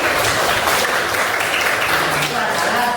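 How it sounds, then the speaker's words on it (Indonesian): Classmates clap for a student in a classroom, a dense, steady patter of many hands lasting a few seconds with a murmur of voices mixed in. "Nah itu tepuk tangan dulu buat Yasmin."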